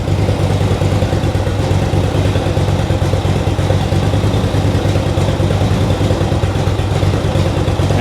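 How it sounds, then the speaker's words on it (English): A turbocharged lawn mower engine idles rich and close, a loud, steady, throbbing rumble with a metallic clatter that holds even throughout. "So we're idling fairly rich, but it's working, so that's what matters."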